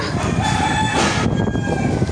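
A chicken clucks and calls over steady background noise, fairly close, with a busy, continuous outdoor din throughout.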